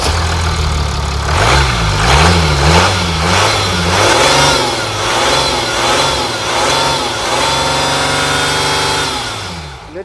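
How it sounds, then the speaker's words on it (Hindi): A 2017 Mercedes-Benz GLS 350 4MATIC's engine revs repeatedly from idle, each blip rising and falling in a steady rhythm, loud and close, before settling back to a smooth idle. "अब इंजन की साउंड सुनाता हूँ आपको"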